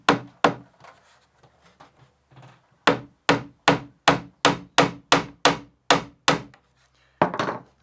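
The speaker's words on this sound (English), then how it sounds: "So we'll just nail this one in place." A hammer drives nails through a 1/16-inch plywood plank on a model Thames sailing barge hull: a few scattered taps, then a steady run of about ten sharp, close wooden knocks at a regular pace.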